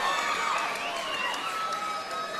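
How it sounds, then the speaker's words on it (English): A large crowd at the Hard Rock Hotel and Casino gives a continuous, loud ovation with cheering and shouting as Thai fighter Yodsanklai Fairtex is introduced at a Lion Fight Muay Thai event. "A massive ovation here for Yodsanklai"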